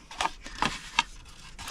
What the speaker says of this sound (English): I guess I could use a bigger pair of scissors for this one.